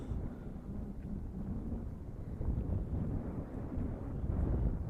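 Wind buffets a quadcopter drone climbing at speed, heard as a low, rumbling gusty roar across the microphone that swells and eases in waves, with no talk.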